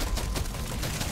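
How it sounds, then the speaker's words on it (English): Explosion in the bug-shooting video game Deep Rock Galactic Survivor: a dense, rumbling burst of crackling blasts with rapid pops layered over it, loud and continuous for about a second with no talking. "That was a good explosion."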